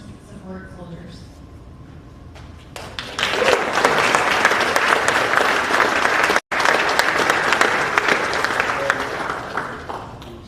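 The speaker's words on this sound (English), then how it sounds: "Another round of applause." Town hall audience at an Army family and community session breaks into broad, sustained applause from a large crowd, rising after a quieter opening with a murmur of voices and continuing loudly to the end.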